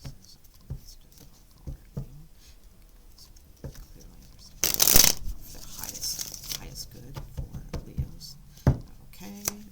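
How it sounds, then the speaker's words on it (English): Tarot cards being shuffled by hand, soft papery pattering and flicks through the clip with one louder riffle burst in the middle, close and intimate, with murmured speech over it. "Let me shuffle a little bit."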